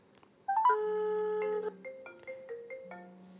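A mobile phone rings with a melodic ringtone when called, clear and close, playing a short looping tune for about three seconds in an otherwise quiet room.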